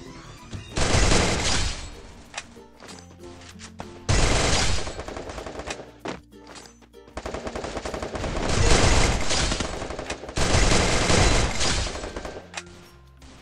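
Gunfire in the video game Free Fire, loud rapid automatic bursts in several long volleys separated by short pauses, with scattered single shots and impact clatter between them.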